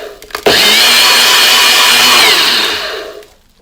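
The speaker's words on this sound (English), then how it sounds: "let's go ahead and blend it for just a couple seconds" Blender whirring loudly as it blends passion fruit pulp with water, starting abruptly, holding a steady high motor whine for about two and a half seconds, then winding down to stop.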